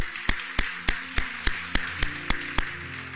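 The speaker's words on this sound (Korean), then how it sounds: "우리 다시 한번 하나님 앞에 영광과 감사의 박수 올려드리도록 하겠습니다." A church congregation claps together in a steady, evenly spaced beat of about ten sharp claps, with a sustained tonal backing underneath.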